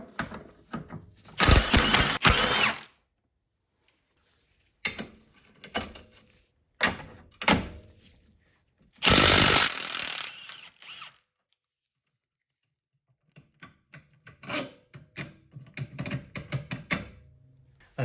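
Four bolts being backed out to free a plastic panel on a BMW 328i with an N20 engine, heard as bursts of ratcheting and mechanical clicking alternating with quiet gaps, close and fairly loud.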